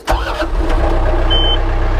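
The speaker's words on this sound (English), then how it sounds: "First thing we want to do is we want to turn the tractor on." A John Deere tractor engine cranks and catches, then settles into a steady low rumbling idle close by. A short high beep sounds near the end.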